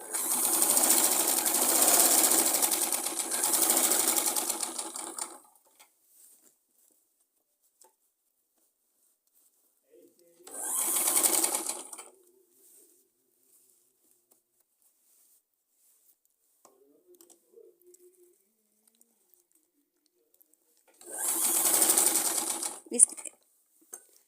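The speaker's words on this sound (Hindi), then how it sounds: "हमने इसमें सिलाई लगानी होती है" A sewing machine stitches a Punjabi suit with a chakvi salwar in three rapid, close whirring bursts: a long run of about five seconds, then two shorter runs separated by silence.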